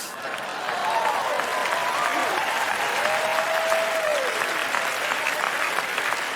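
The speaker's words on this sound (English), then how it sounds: "You don't have to hold the applause inside, Ted." A TED talk audience applauds loudly and continuously, a thick wall of clapping with a faint whoop or voice briefly rising above it.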